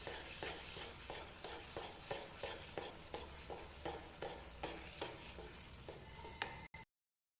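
A spoon scrapes and stirs sooji with sugar in a pan for maha prasad, a regular rhythm of soft scraping strokes with faint sizzle, close and quiet, ending in silence.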